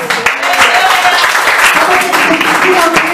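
A church congregation claps loudly and steadily during a worship service, a dense sustained wash of applause mixed with raised voices for about three seconds.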